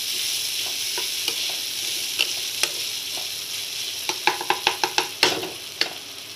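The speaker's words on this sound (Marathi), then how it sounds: "छान असा खरपूस भाजून घ्यावा कांदा." Onions fry in a pan until golden brown, giving a steady close sizzle. A string of sharp spoon clicks and scrapes against the pan stands out toward the end, with no one talking.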